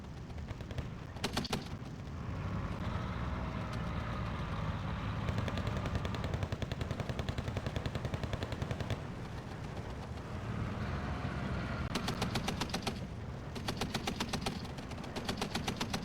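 Sherman tanks and other units firing in the WWII strategy game Steel Division 2, with rapid bursts of machine-gun fire and scattered heavier shots over a constant rumble of battle, moderately distant and ongoing, with no voices.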